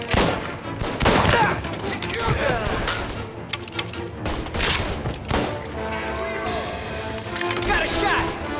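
Gunfire rattles through a shootout in the video game Mafia: Definitive Edition, with rapid shots and heavy bursts following in quick succession, loud and close, mixed with game voices.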